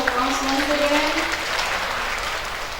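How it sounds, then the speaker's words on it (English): Loud, sustained audience applause at an international academic conference, a dense wash of clapping filling the room for the whole stretch, with faint voices mixed in. "Everyone, let's give a round of applause once again."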